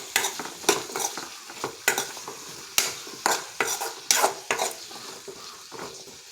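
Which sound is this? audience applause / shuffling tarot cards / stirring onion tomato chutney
stirring onion tomato chutney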